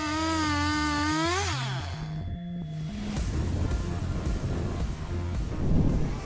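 A Stihl MS661 chainsaw cutting a large poplar tree: the engine revs up with rising pitch, then settles into a loud, rough, steady cutting drone close by.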